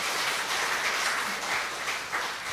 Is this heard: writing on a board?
no